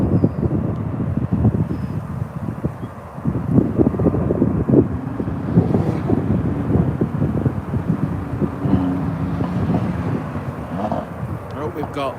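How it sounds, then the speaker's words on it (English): Steady low wind rumble buffets the microphone throughout at Manchester Airport on a cold day, with a faint aircraft engine drone underneath and no clear speech. "As you can probably hear, a bit windy here."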